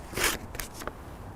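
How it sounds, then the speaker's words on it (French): Quality garden pruning shears snip through a sheet of paper, a couple of short, crisp cutting and rustling strokes, close and fairly quiet, with no talk. "Un outil doit pouvoir couper une feuille de papier comme des ciseaux pendant toute sa durée de vie."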